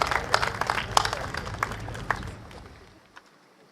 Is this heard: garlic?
no